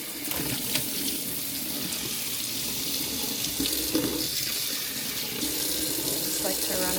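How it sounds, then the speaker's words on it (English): A kitchen tap runs into a sink as a Ninja Luxe Café part is rinsed, a loud, steady close-up stream with slight splashing changes and a little faint voice underneath. "Just like to run it under some water."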